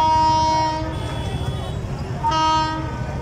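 A train sounds two long, loud horn blasts at a closed railway level crossing, close by, with steady rumble and traffic noise between the blasts.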